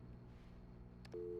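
A telephone in the video game Alan Wake gives a few short dialing beeps followed by a steady tone, quiet and close with a low hum underneath.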